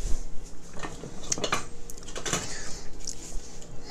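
Metal utensils clatter and jangle as a soup ladle is pulled from among them in a home kitchen during pizza making, with several close bright clinks and scrapes in irregular bursts.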